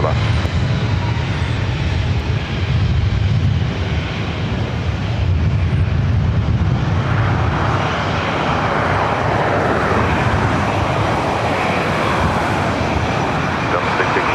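An airliner roars on the runway at LAX, a loud, continuous rumbling engine sound that builds and broadens through the clip, with voices heard alongside.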